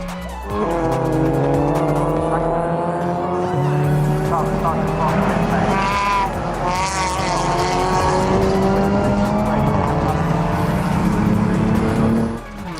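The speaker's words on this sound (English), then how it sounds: "that is a lap of Snetterton in a Mazda 2 as we slowly once again get to the start-finish line" A Mazda 2 race car lapping Snetterton circuit, its engine loud and close with steady revs rising and shifting through gears, brief tire squeal, continuous throughout.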